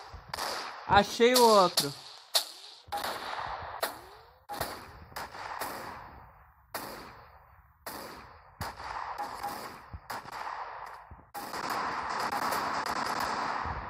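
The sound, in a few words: sniper rifle gunshots in Special Forces Group 2 video game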